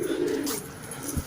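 Pet pigeons give a short, soft coo close by, a brief throaty murmur lasting about a second.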